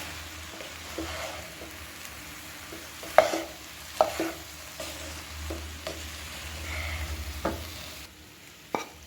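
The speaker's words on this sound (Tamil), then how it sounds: "அது வெஜிடபிள்ஸ்லாம் மேலே வர நல்லா கிண்டிக்கணும்" Vegetables for egg fried rice are stirred in a hot pan, a low steady sizzle punctuated by several sharp spatula scrapes and knocks at irregular intervals, close and unaccompanied by speech.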